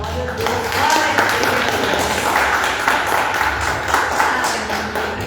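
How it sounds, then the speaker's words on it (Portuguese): A church congregation applauds in a sustained wash of clapping, fairly close and dense, while voices call out over it. "Você pode aplaudir ao Senhor?"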